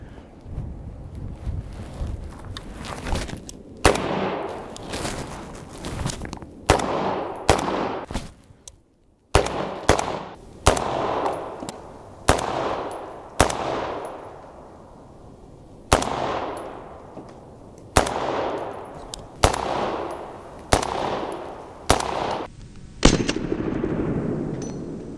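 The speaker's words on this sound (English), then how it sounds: "So soft shooting, so soft shooting." An FN SCAR rifle fitted with a KNS Precision DiSCARder gas regulator fires outdoors, with loud, sharp single gunshots at irregular intervals, each trailing into a decaying echo, and wind rumble against the microphone between shots.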